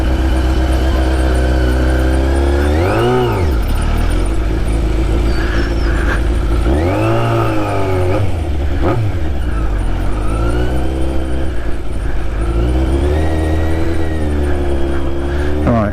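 A car maneuvers in reverse as pedestrians walk past. Its engine rises and falls in several distinct revving sweeps over a constant, close motor drone.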